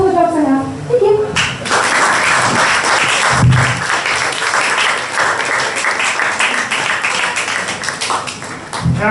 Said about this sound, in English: And your applause out, everybody!